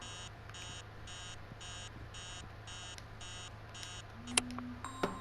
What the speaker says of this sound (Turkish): Bir dakika telefon çaldı.